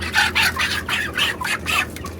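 A flock of 26-day-old broiler chickens clucks in rhythmic bursts inside an environmentally controlled farm shed, loud and close, with a steady ventilation drone underneath.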